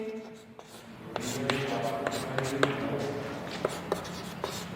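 Writing on a board or paper during a Hindi biology lesson on reproduction in flowering plants, heard as soft scratchy strokes and taps scattered through the clip under a faint murmuring voice.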